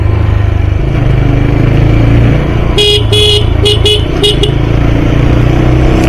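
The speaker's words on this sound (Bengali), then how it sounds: "হর্ন মারতে হচ্ছে মাঝে মাঝে" Motorcycle horn on a narrow village road sounds in a quick series of short toots over the loud, steady rumble of the riding bike's engine and wind.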